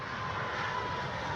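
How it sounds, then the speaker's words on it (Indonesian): An airplane landing at SMB II Airport makes a steady, broad engine roar at moderate distance, a continuous rumbling drone with no break. "Nah, pesawat darat."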